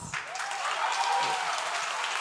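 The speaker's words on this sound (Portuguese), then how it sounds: "Palmas para vocês" A class audience breaks into brief, dense applause that holds steady for a couple of seconds, with voices audible beneath the clapping.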